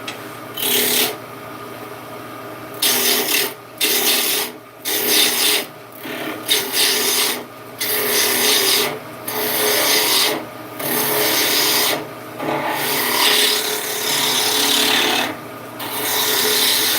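Wooden handles being turned and shaped give off loud, rough rasping and rubbing scrapes in repeated bursts of a second or two, with short pauses between them, close up and steady throughout.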